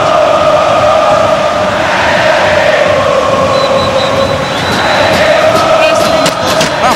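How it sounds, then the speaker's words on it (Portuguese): Boca Juniors supporters roaring in the stadium during a 2012 Copa Libertadores match against Fluminense, a loud, steady wall of crowd noise with surging chants late in a tense finish. "Apaixonada a torcida do Boca"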